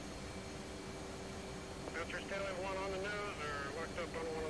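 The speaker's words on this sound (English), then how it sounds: "so afterburner's on" An F/A-18C jet in a flight simulator game roars with its afterburner lit, a steady broad engine rush running throughout while someone talks over it.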